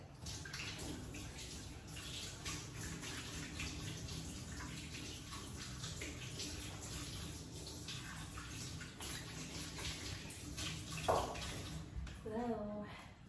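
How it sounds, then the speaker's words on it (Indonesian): Buttery hands are washed under a running kitchen tap while making popcorn, a steady rush of water that holds level for most of the stretch, with a brief voice and a few clinks near the end. "Ntar ya aku cuci tangan dulu karena tangan aku belepotan mentega."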